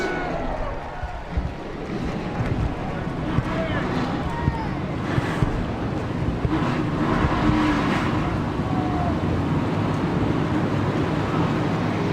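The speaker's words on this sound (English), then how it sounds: "Drivers, start your engines!" Race car engines in the NASCAR Racing 2003 video game at a winter street stock race, a steady loud drone of many engines with wind-like rushing noise, a voice speaking over it.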